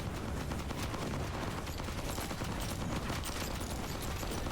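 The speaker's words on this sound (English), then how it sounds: "That's a whole lot of explosions." Dense, continuous video game battle noise, a steady barrage of gunfire and overlapping blasts with no pause.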